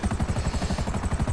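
In GTA Online, a helicopter's rotor beats in a fast, even chopping rhythm, moderately loud and alone, with no talk.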